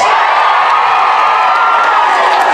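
Loud, sustained crowd cheering and whooping for the Barbies act at a school transition-year variety show, a packed hall roaring continuously with scattered shouts and some clapping mixed in.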